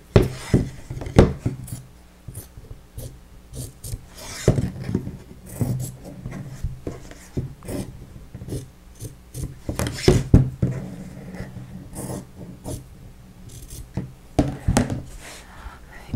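Scissors or a blade cutting an X pattern into fabric for a Christmas fabric frame, heard as close, irregular snips, rustles and handling taps throughout, with no talking.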